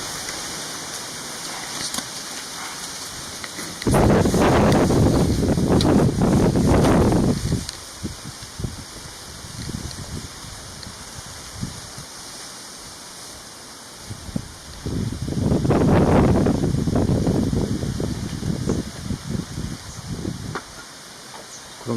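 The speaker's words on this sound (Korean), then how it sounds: "바람이 많이 불어요." Strong gusty wind roars outdoors beside a small portable clay-walled room in a country yard, surging loudly in two long blasts with quieter rustling lulls between.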